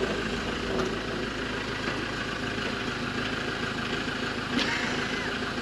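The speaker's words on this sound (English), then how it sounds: "he's just sat there with the engine running" A campervan-conversion van sits with its engine idling, a steady low rumble running continuously and fairly close, with faint background sounds but no clear talk.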